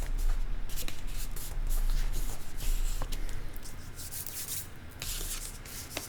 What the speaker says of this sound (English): I'm going to fold this up and press.